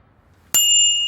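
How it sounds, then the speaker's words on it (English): A cartoon bicycle bell gives a single bright ding that rings on and fades slowly after a quiet pause, standing alone with no talk. "Oh, it rang its bell for me."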